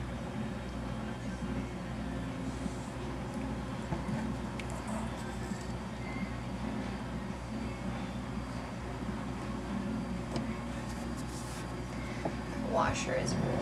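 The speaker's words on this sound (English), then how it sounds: "Washer is really loud" A washing machine runs loudly indoors, giving a steady low drone and broad mechanical hum that holds at an even level for the whole stretch without a break.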